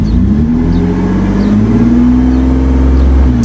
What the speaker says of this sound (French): c'est vraiment quand j'accélère comme ça, là ça fait vraiment beaucoup de bruit